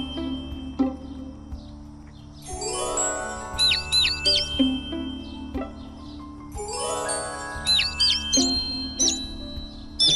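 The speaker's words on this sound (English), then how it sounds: "Time for the enemy to take a nap with Fluttershy's lullaby birdsong!" Lullaby birdsong from the My Little Pony Harmony Quest game: soft sustained tones that swell, with bright chirping, warbling bird calls on top, heard twice in a repeating phrase with no talk.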